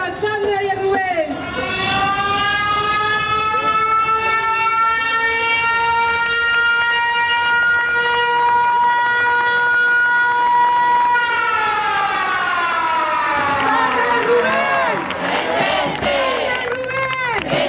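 A siren wails loudly and steadily at a commemorative march, holding a long sustained tone before winding down, with crowd noise and voices throughout.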